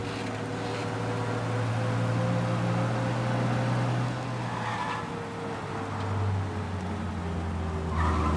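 A car engine in Mafia: Definitive Edition revs steadily at high speed during a police pursuit, a sustained droning tone with occasional tire squeals breaking through, loud and continuous throughout.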